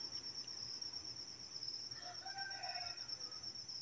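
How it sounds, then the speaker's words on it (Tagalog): Mother hens cluck faintly in the distance outdoors at night, a few brief calls over a constant high, shrill chorus of crickets. "Ala, mga manok na nanay doon."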